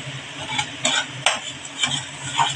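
Spices and turmeric being sautéed in hot oil for fish curry, a soft sizzle beneath repeated spoon strokes scraping the pan in an uneven rhythm, close, with no talk.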